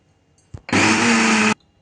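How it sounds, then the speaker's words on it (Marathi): An electric kitchen mixer grinding green chutney with sev and a little water, a brief click and then a loud, steady whirring burst of under a second that cuts off abruptly, with no talk. "आता छान आपली चटणी वाटून घेऊया"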